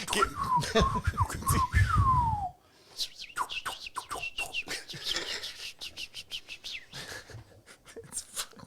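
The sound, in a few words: whistled bird call imitations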